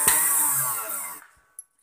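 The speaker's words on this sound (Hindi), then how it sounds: "अब इनको आराम से निकाल के जूसर में डाल देंगे और अब कर देंगे इनको ग्राइंड बहुत अच्छे से" A kitchen juicer grinds carrots with a loud, close whirring roar for about a second before the motor cuts out, followed by a short click.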